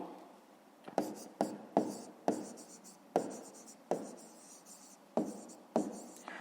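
Pen scratching on paper while a maths problem is written down, a series of quiet separate strokes with short taps, close and soft with no talking.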